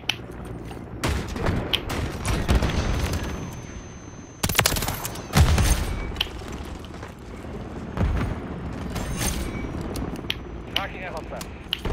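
Automatic gunfire from a WSP Swarm with a 100-round drum in the MW3 video game rattles in sustained bursts with sharp loud cracks. Game sounds and a talking voice continue throughout.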